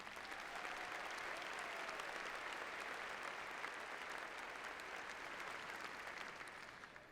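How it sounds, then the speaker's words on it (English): Steady, sustained applause from a sizable crowd at a high school graduation ceremony, dense clapping that holds evenly for several seconds before beginning to taper off. "Please give them a round of applause."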